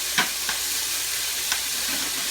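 Chicken browns in a hot frying pan with a steady broad sizzle, punctuated by a few sharp spits and pops of fat, close and fairly loud throughout.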